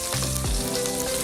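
Chopped garlic frying in a pan, sizzling steadily and close up with a brief stir partway through, no voices.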